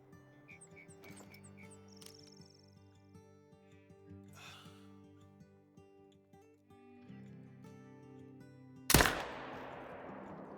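A long-range rifle shot at a buck in the hunting game Call of the Wild cracks out once, loud and sharp, near the end after a stretch of quiet ambient game sound and soft birdsong.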